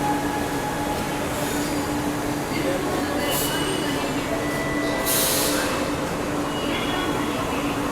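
A Chennai metro train hums and rumbles steadily at a station, with brief high hissing bursts from doors or brakes, while people talk nearby.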